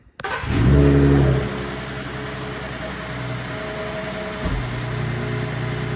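A 2021-2024 Ford Raptor fitted with a JLT intake cranks and fires up, a loud surge of engine roar in the first second before settling into a steady, close rumbling idle with a small blip near the end.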